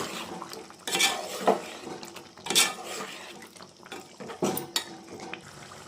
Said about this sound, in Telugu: కొంచెం కొత్తిమీర కూడా వేసుకుందాం. ఒకసారి కలుపుకుందాము.